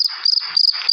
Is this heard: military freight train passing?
no